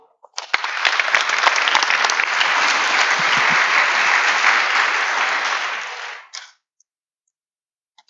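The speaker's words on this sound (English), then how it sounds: "Please, a warm applause." Warm audience applause for a speaker at an Arctic resilience conference talk, a dense, steady wash of many hands clapping for about six seconds before cutting off, with a brief final patter.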